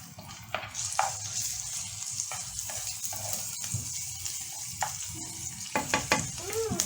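A pigeon dish fries in a pan while being stirred, with a continuous close sizzle broken by repeated scraping and stirring clatters at an uneven rhythm, and no talking.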